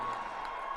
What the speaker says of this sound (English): The crowd is delighted.